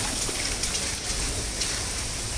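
Heavy rain pours steadily in a green park, a dense even hiss of drops on surfaces with no talking.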